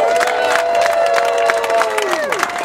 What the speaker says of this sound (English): I want you to give them the biggest round of applause.